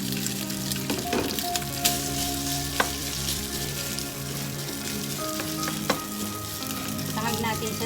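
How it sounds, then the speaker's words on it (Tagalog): Rice sizzles as it is stir-fried in butter in a pan, a dense continuous frying crackle with occasional scraping stirs and clinks, close and loud. "Sangag natin siya sa butter."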